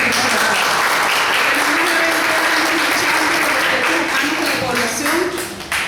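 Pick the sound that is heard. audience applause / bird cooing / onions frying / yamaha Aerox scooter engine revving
audience applause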